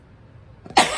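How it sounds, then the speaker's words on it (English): A single short cough breaks out abruptly after near silence, close and loud. "Excuse me, I'm gonna cough."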